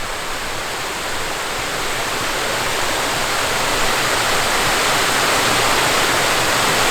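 Water rushes steadily over a canal bywash, a loud, continuous broadband roar with no break, heard alone and close.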